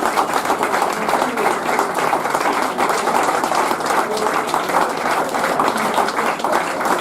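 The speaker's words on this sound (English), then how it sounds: "That was meant for the players to clap you lot." Crowd of football club supporters applauding their players, a steady dense wash of clapping lasting throughout, with some voices mixed in under the clapping.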